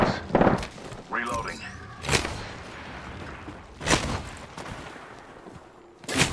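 Gunfire in the Apex Legends battle royale game, with several sharp bursts of shots spaced across the moment over a busy background of game sounds and voice.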